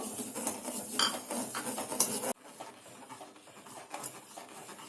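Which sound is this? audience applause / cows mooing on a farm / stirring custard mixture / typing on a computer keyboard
stirring custard mixture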